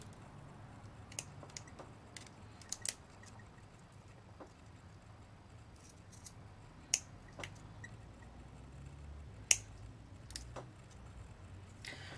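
Scissors snip metal bead trim for a boho journal bead cap, leaving a few sharp, faint, close clicks spaced irregularly across a quiet room.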